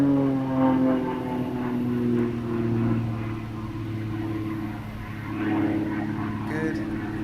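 A propeller-driven aerobatic airplane at an aerobatics competition drones overhead, its engine note rising and falling in pitch as it manoeuvres, steady and fairly distant.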